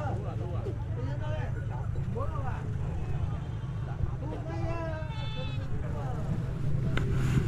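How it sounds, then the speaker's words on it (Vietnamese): Goats bleat repeatedly at a highland market in Lao Cai, several wavering calls rising over a busy crowd murmur and low engine rumble, with people talking nearby. "Đây còn dê đực trắng này."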